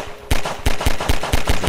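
Gunfire in Half-Life 2: six sharp, loud shots at a steady rhythm, each a broadband crack with a short tail, following a brief quieter pause, with no talking.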